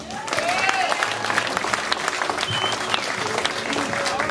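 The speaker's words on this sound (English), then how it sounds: "Give yourselves a round of applause." An audience bursts into sustained, dense applause at a Republican Party headquarters gathering on Saipan, the clapping steady and close throughout with crowd murmur mixed in.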